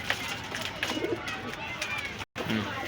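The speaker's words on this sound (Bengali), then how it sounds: "এক জোড়া চীনা কবুতর আছে, খুব সুন্দর কবুতর" Chinese pigeons cooing among the bustle of a pigeon market in Gollamari, Khulna, soft low coos surfacing now and then beneath a steady din of crowd noise and nearby talk.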